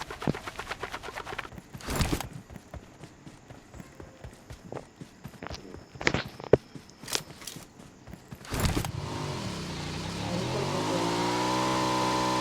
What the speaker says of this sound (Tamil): வண்டி இருக்கான் பாருங்க